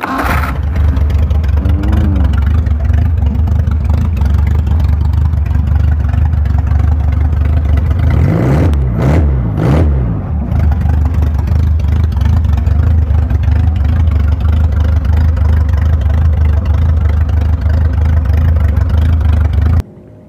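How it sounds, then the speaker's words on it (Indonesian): A loud 1986 Suzuki Carry 1000 cc car engine, fitted to a three-wheeled motorbike, runs steadily throughout, with a rough idle and a couple of quick revs near the middle, then settles back to a constant rumble. "Mesin tahun 86 Suzuki Carry 1000 cc"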